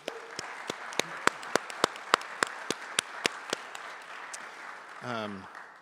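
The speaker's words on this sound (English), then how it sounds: "Can we give them a round of applause, please?" Sparse, evenly spaced handclaps from a small audience at a celebration-of-life memorial, roughly a dozen distinct claps at a steady rhythm before a brief rising tonal sound closes it out.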